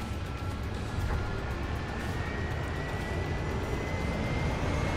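Helicopter in the video game Astral Chain, a continuous broad engine and rotor roar held at an even level throughout, with a faint high whine running above it.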